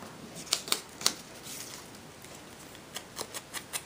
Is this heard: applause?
no